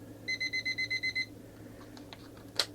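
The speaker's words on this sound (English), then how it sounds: "And it's just got the typical alarm, but not very loud." A 1980s Spartus quartz travel alarm clock sounds its alarm as a quick run of about eight evenly spaced electronic beeps, thin and not very loud, followed by faint handling clicks as it is switched off.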